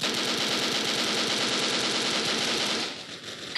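Rapid, continuous automatic gunfire from a weapon in BrickForce, a blocky first-person shooter, rattling densely for about three seconds before stopping abruptly.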